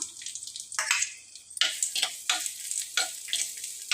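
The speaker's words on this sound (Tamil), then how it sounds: "ஒரு கடாயில் எண்ணெய் விட்டு நாம் எடுத்துருக்கிற சின்ன வெங்காயம் கட் பண்ணி சேர்த்து வதக்கிக்கலாம்" Chopped small shallots sauté in hot oil in a kadai, making a crackling sizzle broken by repeated scraping bursts as a spoon stirs them. The sound is close and has no talk over it.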